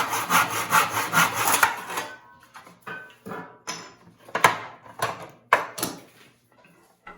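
A hand saw cuts a wood piece clamped at a 45-degree angle in a plastic miter box. Loud, close rasping strokes open the cut, then give way to shorter back-and-forth strokes in a steady rhythm.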